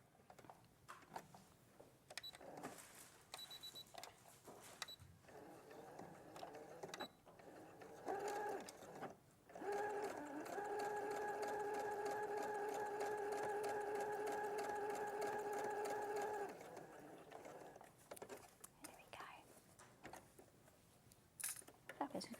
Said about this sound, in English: we're going to sew within our seam allowance because we don't want this stitch to be seen when we're assembling our pocket